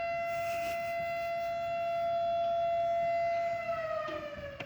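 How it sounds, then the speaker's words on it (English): Outdoor civil defense siren sounding a long, steady wailing tone that holds for several seconds and then starts to fall in pitch, moderately distant, with no voices. "We'll let the siren go."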